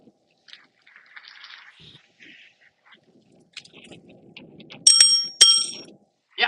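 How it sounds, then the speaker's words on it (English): Bicycle bell on an outdoor ride near the SS Rotterdam, two sharp metallic rings close together near the end, loud and near, after quieter scattered rustling and faint background sounds. "Yeah, the bell is working."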